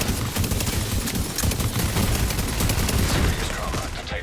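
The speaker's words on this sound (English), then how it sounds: "I had multiple people shooting into me there." Heavy enemy gunfire crackles in rapid, dense volleys during a firefight in The Division 2, loud and continuous across the whole stretch.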